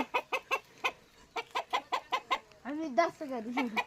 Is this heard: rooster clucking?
yes